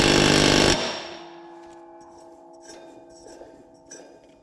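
An impact wrench rattles briefly and loudly as it tightens the blade spindle on an Exmark Quest zero-turn mower, then cuts off, leaving faint clinks and metallic handling sounds.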